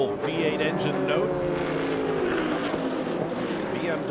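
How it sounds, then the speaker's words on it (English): BMW M3 GTR E46 race car with a V8 engine at the 12 Hours of Sebring, its engine note droning steadily, shifting pitch as it motors around the circuit with crowd and commentary noise mixed in. "While motoring around, the beautiful V8 engine note."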